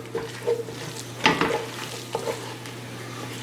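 A spoon stirs seasoning into a roux for crawfish and crab stew, with scraping strokes and a faint sizzle from the pot; a sharper clatter lands near the middle, and no one speaks.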